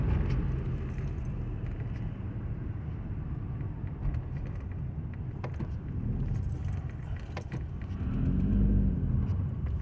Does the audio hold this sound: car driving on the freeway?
yes